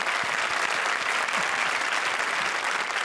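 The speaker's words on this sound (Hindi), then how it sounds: "जोरदार तालियां" A studio audience at a televised comedy show breaks into loud, sustained applause, a dense wash of clapping with no pauses and no voices standing out.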